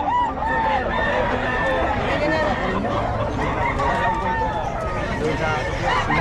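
A rooster crows amid the busy din of a wholesale chicken market, with clucking fowl and people chattering steadily around it.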